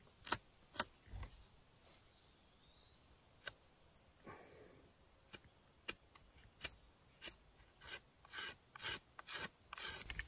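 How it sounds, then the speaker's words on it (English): A coarse stone scraping along the edge of a wooden spear, repeated rasping strokes that start spaced out and become quicker and denser, close and fairly quiet with no talk. "I also shaped the edges a little better by just continually scraping along the edge there"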